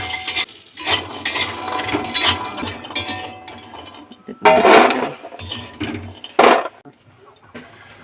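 Bori, small dried lentil dumplings, rattle and scrape as they are stirred and fried in a pan for shukto, with clinks and two louder metallic scrapes or knocks; no speech.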